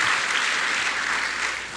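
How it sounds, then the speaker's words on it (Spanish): Sustained applause from a church congregation, dense and steady throughout before easing slightly at the end, with no talking over it. "La iglesia en la radio necesita oír un aplauso de sus hermanos."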